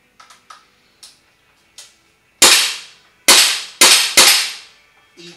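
RA Tech SCAR gas blowback airsoft rifle firing: a few light clicks, then four loud, sharp close-range shots with hissing decay, spaced unevenly, followed by a faint click.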